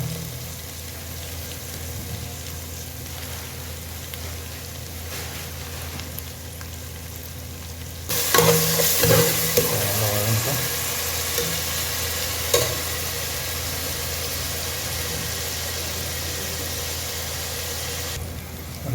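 Green chillies drop into hot oil in a pan and burst into a loud sizzle partway through, with stirring scrapes and clatter over a steady background hum, then the frying settles to a softer hiss.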